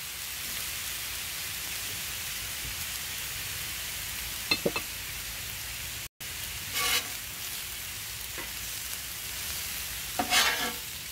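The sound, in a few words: peppers and onion sauteing on Blackstone griddle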